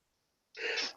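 A single sharp human sneeze bursts out after a stretch of near silence, close and loud, during a talk-show podcast recording.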